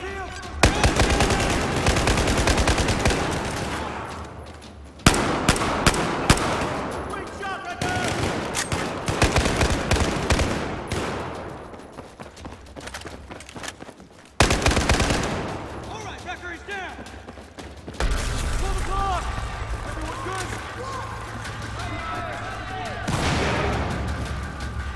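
Video game combat gunfire keeps erupting in dense bursts of automatic shots and heavy blasts, loud and sustained throughout, with characters calling out over the shooting.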